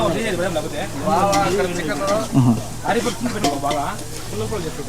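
Chicken frying in a pan as it is stirred, a steady sizzle with scraping stir strokes running under continuous talk throughout.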